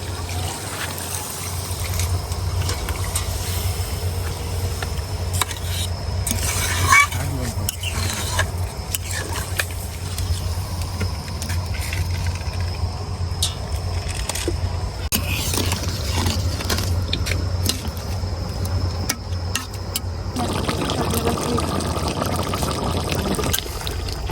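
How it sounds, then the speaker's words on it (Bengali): Lukewarm water is poured into a pot of cooking duck meat, a continuous trickling, splashing pour over the loud hiss and sizzle of the pot. "পানিটা দিয়ে দিতেছি"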